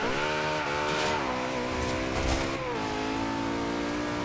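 A supercar engine in Forza Horizon 2 revs and accelerates through gear changes, a loud, close, continuous tone whose pitch climbs, dips at each shift and climbs again, with no voices.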